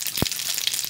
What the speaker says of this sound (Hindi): तेल गरम हो चुका है, राई का तड़का लगा देंगे,